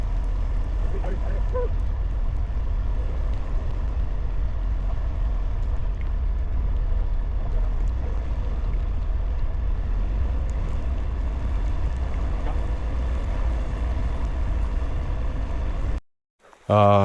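Steady, loud engine drone of a snowmobile running continuously on a winter mountain route to Belmeken peak in the Rila mountains, a low rumbling roar that cuts off abruptly near the end.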